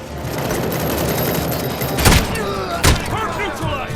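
Gunfire in the RoboCop: Rogue City game, two sharp loud shots standing out over a dense battle backdrop of distant shooting, with shouted voices in the mix.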